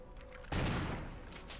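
Gunfire erupts in the Resident Evil remake video game, a sudden loud burst of rapid shots that rings out and decays over about a second.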